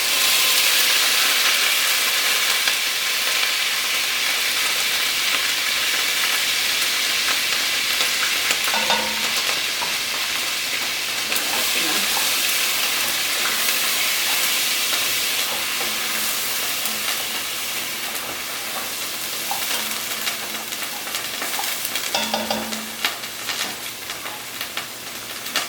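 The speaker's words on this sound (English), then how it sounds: "I'm going to go ahead and add my sofrito." Sofrito frying in a hot pan for a Puerto Rican dish, a loud close sizzle and hiss that runs throughout while scraping stirs and clinks of a utensil come and go, the frying easing slightly toward the end.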